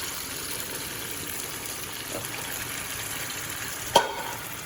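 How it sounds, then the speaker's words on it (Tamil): Cooked mutton and its water poured into onions frying in a pan for mutton dum biryani, a steady sizzle and bubbling hiss with a sharp clink near the end. "தண்ணி, மட்டன் எல்லாத்தையும் சேர்த்து போட்டுருவோம்"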